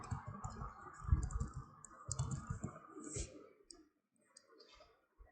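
Light plastic clicks of typing on a computer keyboard come in short bursts, fairly quiet, with faint talk at points and a brief pause near the end.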